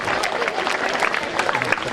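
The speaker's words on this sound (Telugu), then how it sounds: "clap your hands for the founder of Teach for Change, Lakshmi Machi garu" Audience applause for Teach for Change founder Lakshmi Manchu at a school event, a brief burst of scattered clapping from a crowd.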